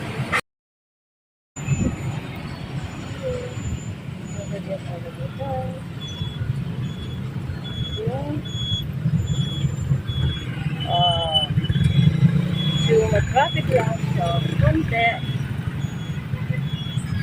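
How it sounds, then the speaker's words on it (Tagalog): Street traffic in Balibago, Philippines: a steady rumble of cars and motorcycles passing nearby, with occasional horn-like tones, after a brief silent gap at the start. "It's a little traffic over here."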